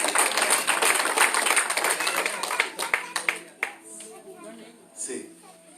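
Welcome applause from a church congregation at a Sunday service: dense, crowded clapping for about three seconds that thins into scattered claps as a voice speaks over it.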